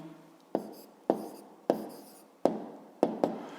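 Six sharp pen taps or strokes on paper while someone writes out a fifth-grade maths exercise, each a crisp close click followed by a brief scratchy decay, spaced about half a second apart with no talking.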